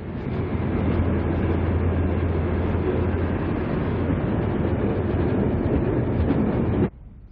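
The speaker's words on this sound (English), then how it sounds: "The PA soon resumes its journey and gets underway with the large plumes of smoke that were typical of Alco power" An Alco PA diesel locomotive gets underway with a loud, steady engine roar and rumble that continues until it cuts off abruptly near the end.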